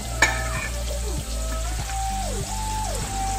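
Onions fry in ghee in a pan with a continuous crackling sizzle and a few stirring scrapes. A faint electronic beeping tone runs in the background.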